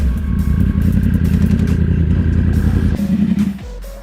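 A 2015 Yamaha R1M with a clutchless auto blipper being ridden: a loud, close engine with a rapid, throbbing, rising note, then a shift in pitch before it settles to a lower idle near the end.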